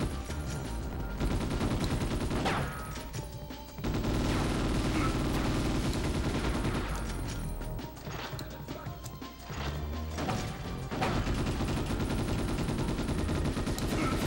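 Shotgun blasts boom repeatedly in the Ghost in the Shell: S.A.C. video game, forming loud overlapping bursts of gunfire and crashes that come in waves with short dips between them.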